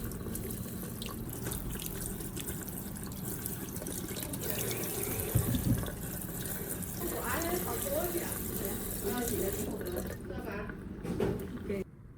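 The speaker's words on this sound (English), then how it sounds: "rinse them under running water to remove the baking soda solution." Sweet potatoes are rinsed under a running kitchen tap to wash off a baking soda solution. Water gushes and splashes steadily throughout at moderate volume, with brief clunks of handling and no talk.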